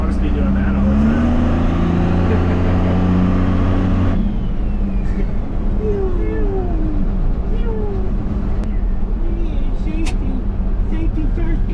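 A first-generation truck's engine is revved with a high supercharger whine for the first few seconds, then drops away into a busy mix with rising and falling tones and people talking over it.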